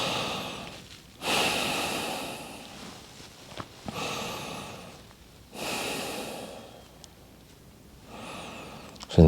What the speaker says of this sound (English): take a few breaths in that position